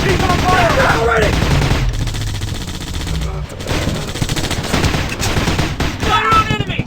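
Rapid automatic gunfire from the video game Commando Strike, loud and dense bursts running almost continuously with brief lulls and renewed volleys.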